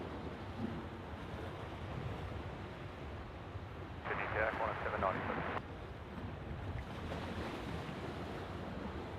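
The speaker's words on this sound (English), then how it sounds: "You can hear that water lapping in the background" Water laps steadily at the shore near Sydney Airport, a soft continuous wash mixed with wind buffeting the microphone, faint and constant throughout with a slightly louder swell midway.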